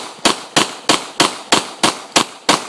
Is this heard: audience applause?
no